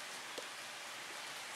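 Rain falls outside a home garage on a day of steady rain, a soft, even hiss throughout.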